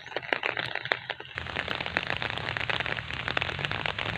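Rain patters densely on an umbrella beside a ricefield, a close, crackling rush of many small drops that thickens after a sparser start, with no talking.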